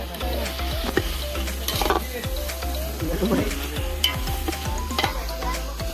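Chicken being stirred with garlic paste in a pot at an outdoor forest party, a constant sizzle with repeated scraping and clanking of the spoon against the metal, while people talk nearby.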